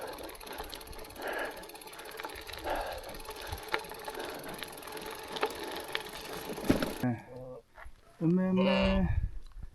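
A cow or other livestock moos close by in the high Kyrgyz mountains at around 3,000 m, a few drawn-out calls near the end after steady wind and ambient noise, with people talking nearby.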